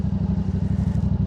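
A Yamaha R7 motorcycle engine runs while being ridden, a steady low, pulsing drone with an even rhythmic throb, close and continuous with no talking.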